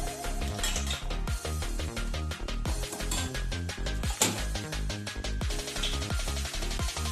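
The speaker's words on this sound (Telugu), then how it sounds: "ఇప్పుడు ప్యాన్ పెట్టుకొని ఒక 2 స్పూన్లు నూనె వేసుకుందాము." A pan set down on a stove and a couple of spoons of oil poured in while making Telugu idli karam podi, with repeated close metallic clinks and clatters of cookware and utensils.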